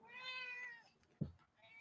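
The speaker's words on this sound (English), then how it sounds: "my cat says hello" A house cat gives a long, clear meow, drawn out and fairly close, then a short thump and a fainter second meow near the end. No one talks.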